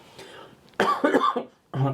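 A person coughs several times in quick, harsh bursts, close and fairly loud, with a short pause before a final cough.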